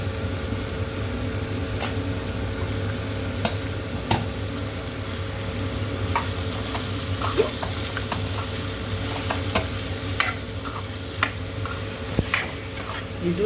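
Tomato and fresh ginger sizzle steadily in a hot pan for street-style masala puri made without garlic, with occasional light scrapes and clicks of stirring over a continuous low frying hiss.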